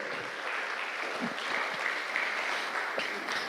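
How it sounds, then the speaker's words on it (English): An audience at a healthcare conference applauds continuously, a fairly faint but steady spread of many hands clapping throughout. "let's give them a round of applause"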